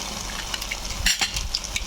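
Butter sizzling in a hot pan for palak paneer, a steady close crackling hiss with a few light clinks of a spoon or utensil stirring partway through, and no talk.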